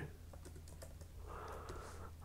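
Fingers tap out a name on a computer keyboard while filling in an online registration form: a quick, uneven burst of soft, close keystrokes over a faint background hum.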